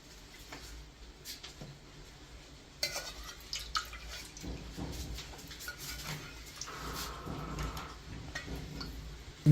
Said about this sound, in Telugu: ఇందులో తగినన్ని నీళ్లు పోస్తున్నాము.